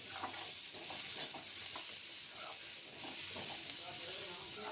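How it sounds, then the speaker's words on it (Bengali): Onion stalk paste being stirred in a pan, with a soft continuous sizzle and faint scraping stirs against a steady background hiss. "ঢাকনাটা খুলে দেখছি কতটা হলো, আর একটু নাড়িয়ে চাড়িয়ে আবার একটু চাপা দিয়ে দেবো 2 মিনিটের জন্য"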